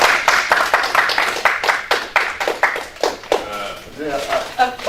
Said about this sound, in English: can you guys give our speakers just one more round of applause?